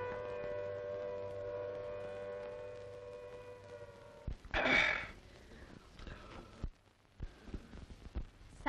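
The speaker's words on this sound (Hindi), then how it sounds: "सायरन से डरते हो सेठ?" An air raid siren wails in a 1940s Indian wartime film scene, a steady held tone over a low hum for about four seconds, then cut off by a sharp burst and scattered knocks and rustles.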